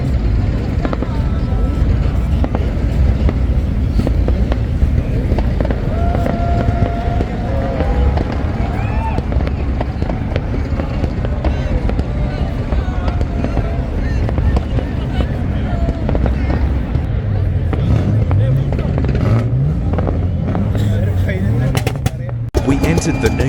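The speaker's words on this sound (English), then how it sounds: "We entered the new year with spectacular fireworks display at Moreeb Dune." A New Year fireworks display at Moreeb Dune in the Abu Dhabi desert during the Liwa International Festival, with a continuous barrage of bangs and crackles heard amid a noisy crowd and voices.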